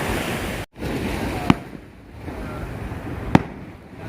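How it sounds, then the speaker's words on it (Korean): Two sharp firework bangs, a couple of seconds apart, crack over a steady wash of surf and wind at Patong Beach, Phuket. "불꽃놀이 하기 시작했습니다."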